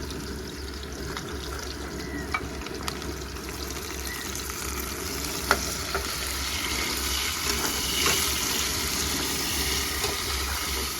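Masala fries in a pan for prawn thokku, a steady soft sizzle with faint scattered crackles, close and fairly quiet, with no talk.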